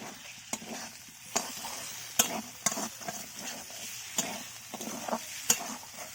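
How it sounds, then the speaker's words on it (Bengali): Fried prawns are tossed into a sizzling spice mix in a frying pan, with a constant low sizzle and sharp intermittent spoon scrapes and knocks against the pan as they are stirred, close up with no voices. "এবার আমি ভাজা চিংড়ি মাছগুলো দিয়ে দিচ্ছি"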